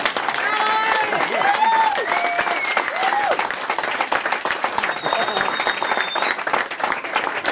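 An audience at a Goldenes Reitabzeichen equestrian award presentation breaks into loud, sustained applause with some cheering, the clapping dense and close while voices call out and speak over it early on.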